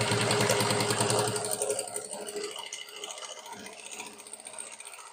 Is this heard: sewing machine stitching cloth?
yes